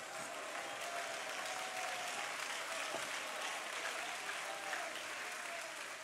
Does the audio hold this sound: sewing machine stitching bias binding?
no